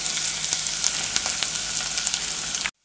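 Coriander, chilli and turmeric powders fry in a pan for a Kerala-style sardine curry, a steady close crackling sizzle with scattered small pops that cuts off abruptly at the end.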